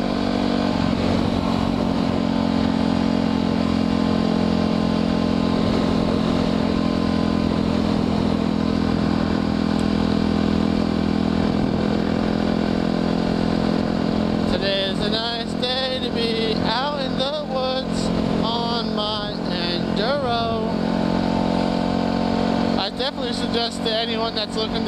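Enduro dirt bike engine droning steadily on a trail, loud and close throughout, with someone talking over it partway through.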